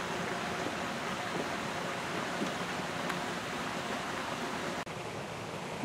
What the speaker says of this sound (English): And then with the sound of the water,